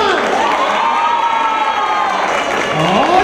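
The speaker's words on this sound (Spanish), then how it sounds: "¡Ay, sí están aplaudiendo!" A crowd of children and adults claps and cheers loudly and steadily as a police clown enters the room, with excited shouts and whoops rising throughout the brief burst.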